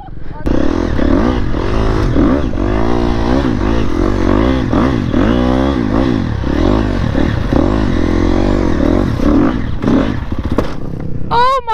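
KTM dirt bike engine ridden on a rocky trail, loud and close throughout, with constant revving that rises and falls in quick surges of throttle and clattering over rough ground.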